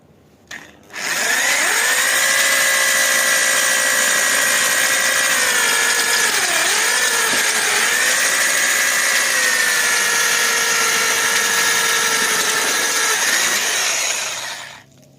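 A loud, steady power drill whines continuously for about thirteen seconds while boring holes in a metal tent frame tube, its pitch dipping briefly midway as it bites into the metal, then stops.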